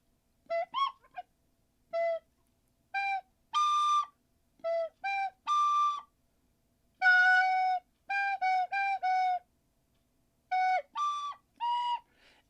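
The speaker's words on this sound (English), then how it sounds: "That's the Song of Storms from the Ocarina, from Zelda." Song of Storms melody from the video game Zelda: Ocarina of Time, played as a clear whistle-like tune in short separated notes and phrases, fairly faint and with no talking.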